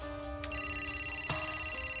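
A telephone rings with a steady electronic trill that starts abruptly and pulses evenly, loud and close, with a faint tap or click partway through and no talking, in a domestic drama scene.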